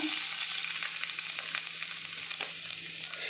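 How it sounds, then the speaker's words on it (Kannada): Chopped garlic fries in hot oil with a steady, close crackling sizzle and scattered light pops, continuous and unbroken, with no voices. "ಎಣ್ಣೆ ಬೆಚ್ಚ ಆಯ್ಬೊಕ್ಕ ಕಟ್ ಮಲ್ದಿತ್ತಿನ ಬೆಳ್ಳುಳ್ಳಿನ ಪಾಡುವೆ"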